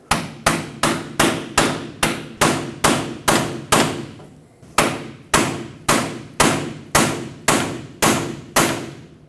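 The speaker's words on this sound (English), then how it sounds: "Using a pry bar, stick it right in the split of this sleeve, tap it in with a hammer." A hammer taps a pry bar into the split of a tie rod adjusting sleeve on a 2011-2016 Ford F-350, giving a rapid, even run of sharp metallic strikes, about two per second, close and loud with one brief pause.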